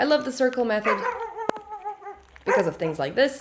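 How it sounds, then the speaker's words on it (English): A neighbor's dog barks during a leash-training walk, sharp bark bursts mixed in with someone talking close by, the barking partly masked beneath his speech. "that was my neighbor's dog barking at him"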